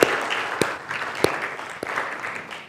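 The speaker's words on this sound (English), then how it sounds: "I'd like to give an applause to all of us for all the good work." An audience applauds at a keynote speech, a dense, steady wash of many hands clapping with a few sharper individual claps standing out, fairly close and with no talking.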